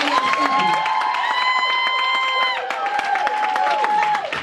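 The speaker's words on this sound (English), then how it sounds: "y'all clap a little harder than that" An audience at a Total Life Changes gathering claps and cheers for regional directors coming to the front, a dense, steady crowd roar lasting throughout, with sustained whistles or shouts and voices mixed in.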